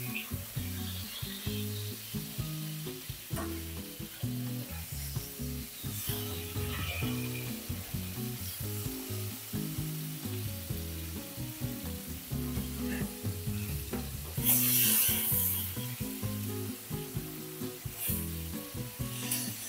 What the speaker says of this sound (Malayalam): മീഡിയം ഫ്ലെയിമിലിട്ട് ഒരു 2 മിനിറ്റ് ഒന്ന് ഫ്രൈ ചെയ്താൽ മതി.